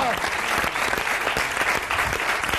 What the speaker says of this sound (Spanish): vamos a aplaudir para agradecer